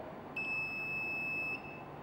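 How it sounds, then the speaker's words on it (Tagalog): Continuity tester buzzer sounding while its two leads are shorted together, a single steady high-pitched electronic beep lasting just over a second, clear and close against a quiet background. "So kung dito ka sa buzzer,"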